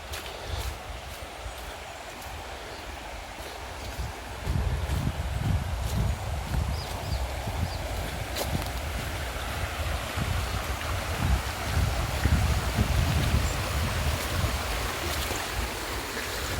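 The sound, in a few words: river running water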